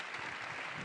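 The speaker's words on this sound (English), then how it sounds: "Round of applause." Audience applause at a service-themed event honoring Michelle Obama, Jill Biden and Alma Powell: steady, dense clapping filling a short burst without pause.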